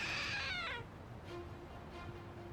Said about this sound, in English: Meowed, so it was a trick statue.